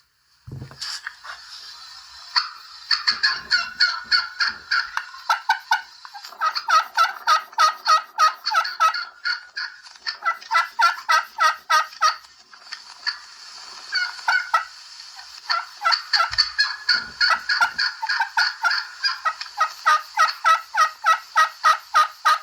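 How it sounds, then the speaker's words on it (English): A recording of a wild turkey plays raspy yelping and fast cutting: bursts of sharp, hoarse yelps in rapid rhythmic runs, loud and close, separated by short pauses, with no talking. "Some of the best recorded raspy yelping and cutting."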